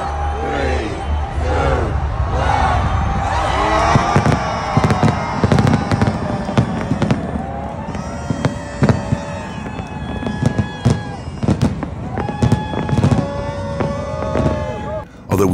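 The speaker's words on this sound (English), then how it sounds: "at midnight they had a countdown on the big screens before the skies were filled with fireworks" New Year's Eve fireworks burst over the Las Vegas Strip at midnight, continuous booms and crackles amid a large, noisy crowd cheering and shouting, loud and dense throughout.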